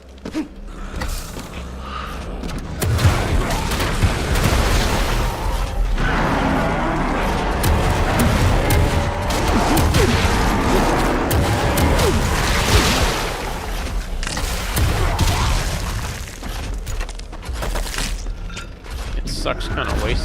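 Heavy guns fire in the shooter game Wrath: Aeon of Ruin, a dense, loud, sustained roar of blasts and crashes that swells after a quieter opening and keeps going throughout.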